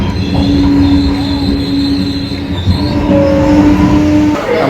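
A train rides between Bergamo and Brescia in Italy: a loud, steady rolling rumble inside the carriage with long, thin wheel-squeal tones drifting over it, continuous throughout.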